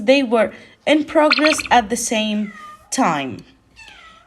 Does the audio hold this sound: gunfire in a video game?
no